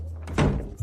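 A door closing in an indoor drama scene gives a single solid thunk midway through, close and fairly loud, against a quiet room hum.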